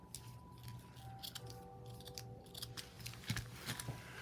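Scissors snipping through lace while finishing a lace sample book, a run of quick crisp cuts at irregular intervals, close and fairly quiet against a faint background hum.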